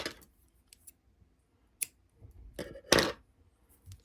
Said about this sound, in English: I'm going to trim these ends